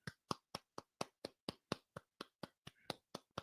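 Steady claps from a single pair of hands, about fourteen crisp, evenly spaced strikes, close and fairly quiet with no talking.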